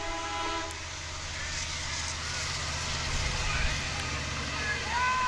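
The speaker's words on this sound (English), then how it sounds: "get a feature from another train passing by" Long Island Rail Road train rumbling past near a high school baseball game, a steady rolling roar with brief horn-like tones, heard under a commentator's talk.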